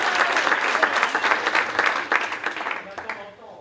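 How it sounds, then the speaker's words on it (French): A short burst of audience applause at a conference, steady and moderately loud, fading away toward the end. "Ce sont des applaudissements timides, je trouve, quand même."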